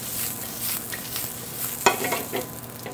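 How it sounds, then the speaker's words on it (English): Bok choy being sautéed in a pan at a restaurant, producing a steady, close sizzle with soft scraping and tossing noises and one sharp clack of a utensil partway through, with no voices. "So a quick saute on the bok choy."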